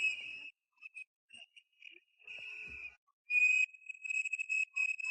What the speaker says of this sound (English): So they got the whistles out.